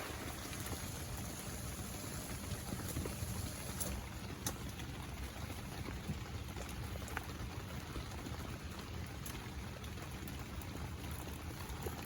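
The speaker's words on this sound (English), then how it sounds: "It's raining its butt off out there." Heavy rain drums steadily on a hot tent at a camp, a dense continuous patter with occasional sharper drops, loud and close throughout with no one talking.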